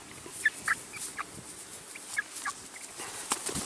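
Chickens fenced in a pen give a few short, scattered clucks and calls, soft and somewhat distant against a quiet outdoor background.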